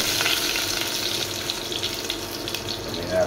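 Onion and garlic sizzle in a hot pan, a steady, dense, watery hiss and crackle that stays loud and even for the whole stretch. There is no talking.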